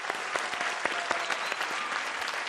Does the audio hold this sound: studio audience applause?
yes